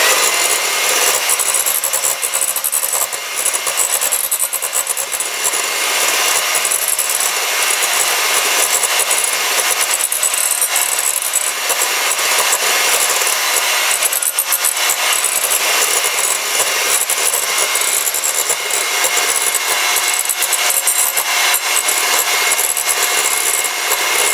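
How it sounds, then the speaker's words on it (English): An electric hand mixer whips eggs until fluffy for a German chocolate cake, a loud, close, continuous whirring and beating that holds steady throughout with no voices. "I'm using my hand mixer, and now you can see with just a couple of seconds it's nice and fluffy"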